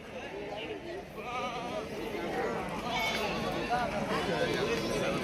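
Goats bleat repeatedly at the busy Shirur livestock market in Maharashtra, several animals calling close by over a constant crowd murmur, while people talk throughout.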